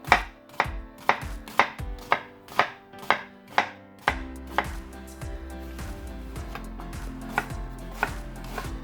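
Two onions being diced into cubes with a knife on a cutting board, steady rhythmic chops close up, evenly spaced in the first half and then quicker and denser over a faint background hum, with no talking.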